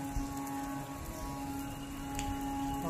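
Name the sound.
artificial rain effect at Surendrapuri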